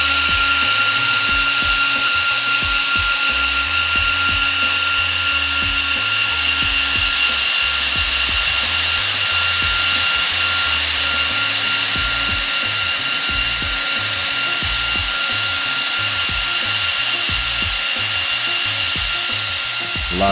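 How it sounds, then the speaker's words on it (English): Turbo cooling fans on an Arrma Limitless RC car whir with a steady high-pitched drone and a pulsing low rumble underneath, loud and close for the whole stretch with no talking. "these fans are really, really loud and they're very powerful."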